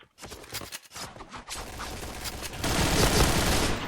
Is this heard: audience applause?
no